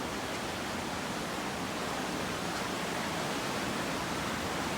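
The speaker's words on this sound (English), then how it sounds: "the river does sound good today" River flowing past rocks under a bridge in Helen, Georgia, a loud, steady, broadband rush filling the whole stretch with no pauses.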